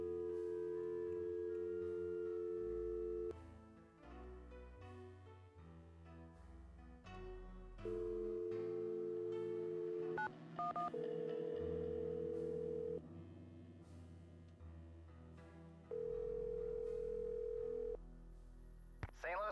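A phone in a theater ticket booth in the Nancy Drew game dials out, with long steady dial and ringback tones alternating with short keypad beeps, loud and close, and no talk over them.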